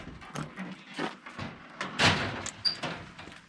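The door of a remote outback station hut at Mt Gipps Station is opened: a series of knocks, rattles and a scraping creak, close by and fairly loud, with no talking.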